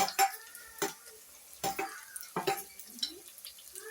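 Ginger sautéing in a pan, with soft sizzling and brief stirring scrapes in short bursts separated by quiet gaps, faint and close.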